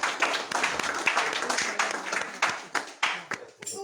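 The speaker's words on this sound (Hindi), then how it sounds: "मैं चाहता हूँ कि जोरदार तालियों से हम कृषि जी को धन्यवाद दें।" Audience clapping at a Krishna Janmashtami religious gathering in thanks for a dhol drummer, a dense burst of hand claps that thins toward a few scattered, separate claps at the end.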